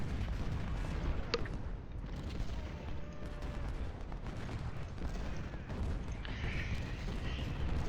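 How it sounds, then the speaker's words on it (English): Booming 24-pounder howitzer fire and crackling gunfire in the Civil War strategy game Ultimate General: Civil War, a continuous rumbling battle din with occasional sharper reports, steady and fairly loud. "these are 24-pounder howitzers, almost certainly"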